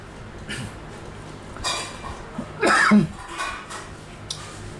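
A man coughs a couple of times during a Malay-language religious lecture, with short throaty bursts against quiet room noise.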